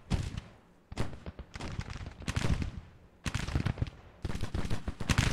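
Brigades exchange volleys in the Civil War strategy game Grand Tactician, heard as bursts of dense, crackling rifle fire that surge and fade in waves, with rolling booms mixed in.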